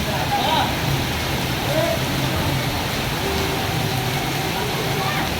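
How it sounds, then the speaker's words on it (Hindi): Heavy rain pours down in a storm in Jhelum, with water rushing down steps, making a dense, steady hiss that fills the whole stretch without letup. "सही तेज़ बारिश हो रही है"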